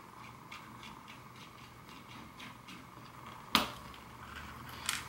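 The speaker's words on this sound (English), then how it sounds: "We'll cut the aluminum tubing by rolling over it with a razor blade." A razor blade rolled over thin aluminum tubing produces faint, rapid ticking and clicking at close range, followed by a sharp snap as the tube parts and a smaller click shortly after.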